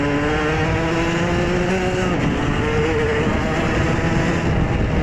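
A moped engine with an 80cc kit and a 50-70 exhaust pipe drones steadily up close, its pitch rising and falling as it revs, with a continuous buzzy exhaust tone.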